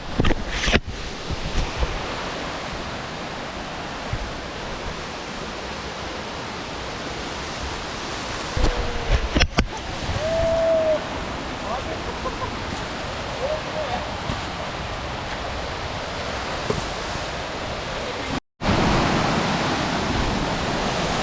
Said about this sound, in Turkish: Şelalenin yanına indik. Ve şelalenin çılgınlığına bakın.